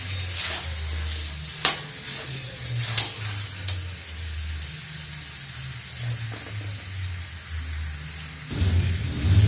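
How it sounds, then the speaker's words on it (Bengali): Chicken stir-fried with pickled chilli in a pan, a steady close sizzle with occasional sharp spatula scrapes and clinks, swelling louder at the very end. "তো চিকেনটা কষানো হোক।"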